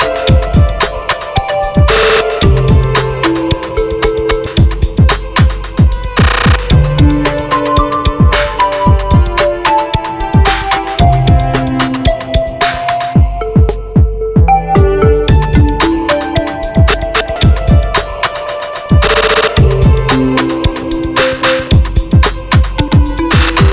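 An Elektron Octatrack sampler plays a note-repeat effect, rapid stuttering retriggered tonal hits in rhythmic bursts, loud and bright with brief gaps between patterns, no talking.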